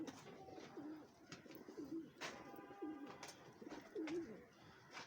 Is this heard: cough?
no